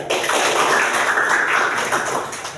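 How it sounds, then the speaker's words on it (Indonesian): A classroom group of students claps hands in unison at an Islamic studies lesson, a dense burst of applause from many hands, loud and close, lasting about two seconds. "Tepuk tangan"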